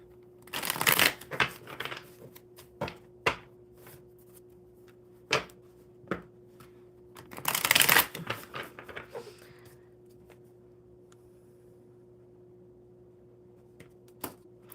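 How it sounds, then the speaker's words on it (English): A deck of tarot cards is shuffled in a few bursts of riffling and flicking, close and crisp, separated by quieter pauses and scattered single card taps against a steady low hum. "All right, one more good shuffle."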